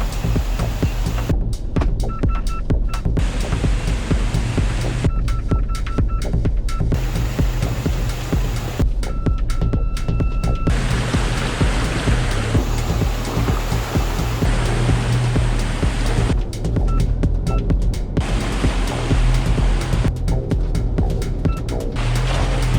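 Isuzu D-Max pickup crawling through a river in 4L with the diff locked, heard as a loud, steady wash of rushing water and splashing with a low engine rumble underneath, continuous throughout.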